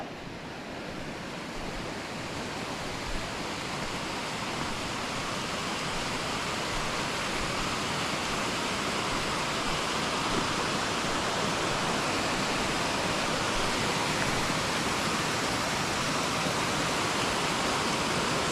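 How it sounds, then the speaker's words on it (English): Steady broadband rush of running water from a stream near a trail on a dirt bike ride, loud and continuous throughout with no talk. "Heard some water running, so we thought we'd check it out."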